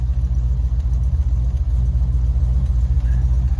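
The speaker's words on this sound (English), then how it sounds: "Listen to the exhaust as we have it running." A 1980 Corvette with an aftermarket cam idles steadily, its exhaust giving a deep, continuous rumble with a subtle lopey gallop, close and loud with no talking.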